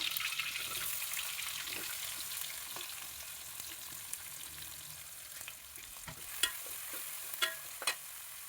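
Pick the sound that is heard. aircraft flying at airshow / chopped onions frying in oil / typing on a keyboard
chopped onions frying in oil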